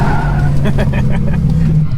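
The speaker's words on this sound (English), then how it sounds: "drift kids and their limiter bashing, forgetting they have a manual car" A manual drift car on a track bashes its rev limiter, the engine buzzing in rapid stuttering pulses, close and loud, with a voice talking over it.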